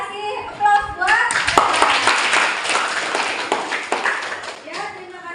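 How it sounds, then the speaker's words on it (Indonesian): Classroom audience applauding together at a school lesson, a dense burst of clapping that runs for several seconds and slowly thins out, with children's voices mixed underneath. "Kasih aplaus buat."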